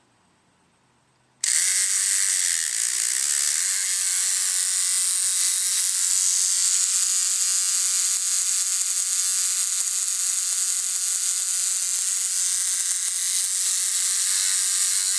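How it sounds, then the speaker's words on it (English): After a brief quiet moment, a small electric motor salvaged from a cassette player whirs into life with a sudden high-pitched buzzing whine, running steadily and continuously up close with slight wavering in pitch. "This is the motor out of a cassette player. Let's see if it works."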